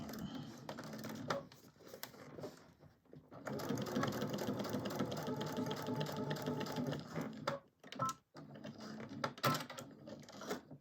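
A sewing machine stitching a crossbody bag, running in steady rapid bursts with short pauses between passes, close and fairly quiet.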